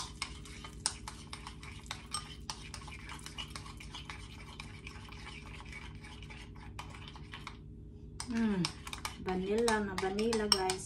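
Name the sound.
stirring ube mixture in a bowl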